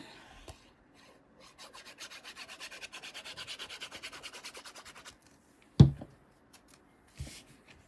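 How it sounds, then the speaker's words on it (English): A paper piece is rubbed down firmly onto a junk journal page as it is glued, heard as a quick run of soft rhythmic scrubbing strokes, followed by a sharp tap and a brief faint rustle. "And this piece is just getting glued down."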